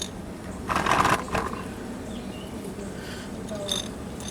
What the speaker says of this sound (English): You tighten it back up.